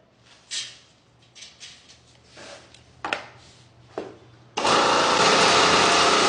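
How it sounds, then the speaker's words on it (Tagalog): A pelletizer machine for animal feed starts up on test, its motor and grinding roar cutting in loud and steady after a few sharp knocks and clanks, continuing without a break to the end. "Testingin muna po natin tong pelletizer machine po ninyo."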